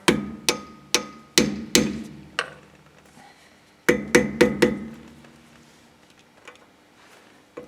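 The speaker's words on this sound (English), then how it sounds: "You need to find a spot and then hit it with a hammer." Sharp metallic hammer strikes ring out on a Peugeot 307 rear brake disc, a run of five then a few more blows after a pause, each ringing briefly.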